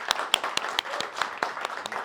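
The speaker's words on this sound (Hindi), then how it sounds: "सो एक बार ज़ोरदार तालियां।" Scattered applause from an audience at a film interview event, a brief burst of separate claps, some sharp and close, over a quiet background.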